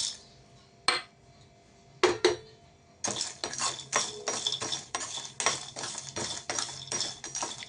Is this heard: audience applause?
no